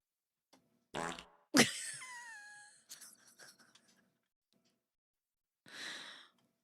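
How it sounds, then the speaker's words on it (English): Several fart sounds, one short burst then a long loud squeaky fart with a falling pitch, followed by smaller sputters and a final breathy blast after a pause; no speech. "More farts."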